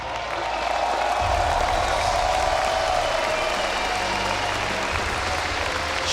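A large esports arena crowd at IEM Katowice cheers and applauds SKT's League of Legends grand final win, with dense, sustained clapping and roaring that fills the space.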